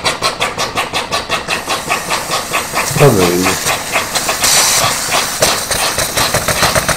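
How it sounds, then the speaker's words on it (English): Live steam engines in a model generator room diorama, powered by a Stewart 504 boiler, chuff in a steady rapid rhythm up close with constant hiss, briefly overlapped by a short spoken phrase. "the power of the Stewart 504 boiler to run the two engines together"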